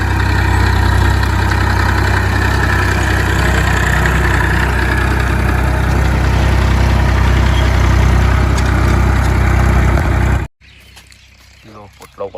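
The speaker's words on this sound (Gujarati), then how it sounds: "હવે ટ્રેક્ટર ખેતરમાં ખેડે છે આપણા" A tractor engine ploughing a field in a groundnut farm setting drones loudly and steadily with a deep rumble, then cuts off abruptly near the end, leaving quieter sounds.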